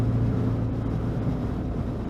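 Steady low engine hum of a Suzuki V-Strom 650 motorcycle on a ride, droning evenly up close with wind noise and no voices.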